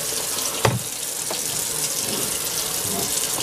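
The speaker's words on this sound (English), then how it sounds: "So another thing I like to do is take the sprayer." Kitchen sink sprayer hissing a steady, close stream of water into a trash can, a continuous broadband rush with a couple of brief splashy bumps, loud and unbroken.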